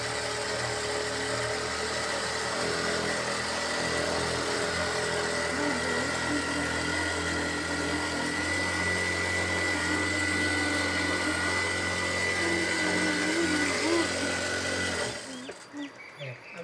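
A sewing machine stitching a running mat gives a steady, close motor whir with a continuous mechanical drone, which runs unbroken for about fifteen seconds and then stops abruptly.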